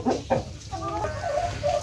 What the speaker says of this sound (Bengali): আমার এখানেও প্রায় সেমি অ্যাডাল্টের তিনটা মোরগ আছে এখানে আর বাকি সবগুলো কিন্তু মুরগি